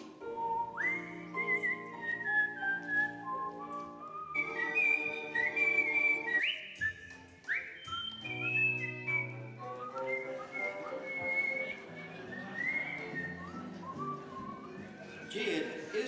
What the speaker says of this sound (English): Is whistling an art form?